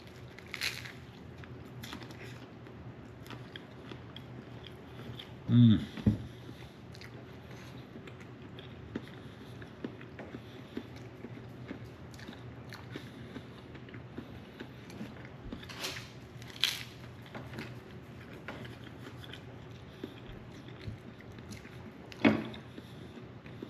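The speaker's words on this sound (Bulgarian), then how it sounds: "сега ще хапна оризовките." Crunchy rice cakes being bitten and chewed in a quiet room, with a few sharp crunches scattered through otherwise soft, faint chewing and no talking.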